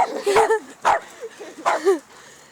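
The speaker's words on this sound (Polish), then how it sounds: "jeżeli ktoś chce kupić tą rasę Cavalier King Charles Spaniel, to się przygotujcie, że te psy czekają bez powodu" A Cavalier King Charles Spaniel gives a few high, whining yips and whimpering barks close by, in three short bursts over about two seconds.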